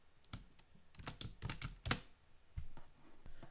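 Fast typing on a computer keyboard, entering a short Python line in Notepad on a Windows machine, with close, dense runs of clicking keystrokes that come and go in uneven bursts.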